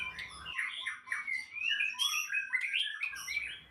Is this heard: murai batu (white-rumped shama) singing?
yes